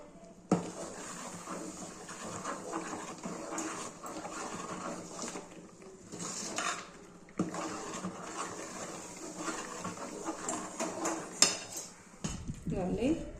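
A mysorepak mixture of flour and oil stirred in a pan, with repeated metal scraping and clinking strokes close by, a dog panting and whimpering at times in the background.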